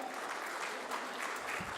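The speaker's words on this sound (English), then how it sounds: "Can we have a louder round of applause?" A conference audience at a hotelier summit in India applauds in a dense, even round of clapping, steady and moderately loud throughout.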